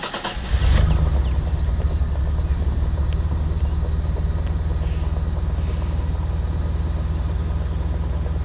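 A Nissan R31 with a manual gearbox conversion cranks and catches at once, then settles into a steady, loud, close idle that holds with a faint ticking texture and no talking.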